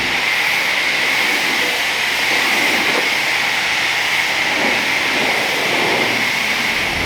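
Steady, loud rushing spray of water hosing down a Koenigsegg Agera hypercar, a constant hissing wash with a slight rumble underneath, close and unbroken for several seconds with no talking.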